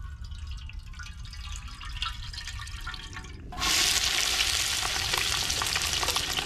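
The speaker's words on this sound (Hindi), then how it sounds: "अभी यहाँ पे खेकड़ा धोने का काम चालू है" Crabs being washed in water: continuous splashing and trickling, which swells into a louder rush of pouring water midway and stays close and steady, with no talking.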